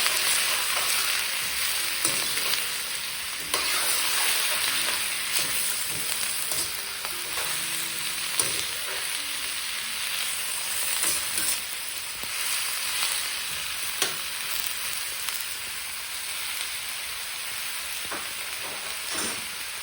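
A tofu and vegetable stir fry sizzles steadily in a pan, seasoned with black pepper. A constant close frying hiss carries intermittent scraping stirs and clinks throughout, with no talking.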